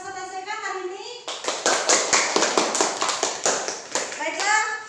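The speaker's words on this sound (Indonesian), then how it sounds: "Tepuk tangan untuk kalian semua yang sudah mempresentasikan hari ini" A classroom of students claps for their classmates after group presentations, a burst of quick, fairly close applause lasting a few seconds between a teacher's speech before and after.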